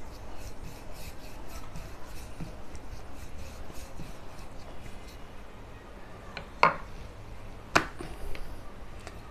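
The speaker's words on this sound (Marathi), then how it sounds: "अशी व्यवस्थित आपण भाकर लाटून घेऊया ही." Bhakri flour dough for modak being rolled out on a floured surface, a soft, steady rubbing and rasping that repeats throughout, with a couple of sharp taps near the end.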